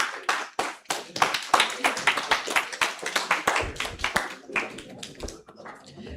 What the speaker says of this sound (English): Let's give a round of applause to Desiree.